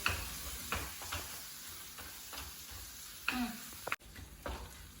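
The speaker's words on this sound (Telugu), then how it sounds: "దీని తర్వాత కొంచెం గరం మసాలా లైట్గా, మంచిగా మిక్స్ చేసేసుకోవడం ఇవన్నీ." Garam masala being stirred into a curry frying in a pan: a soft steady sizzle with a few scraping spoon strokes against the pan, close and fairly quiet.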